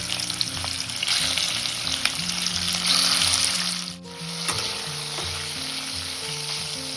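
Steady crackling sizzle of salt-and-turmeric-coated prawns frying in hot oil, with a brief dip midway before the sizzling resumes, close and moderately loud.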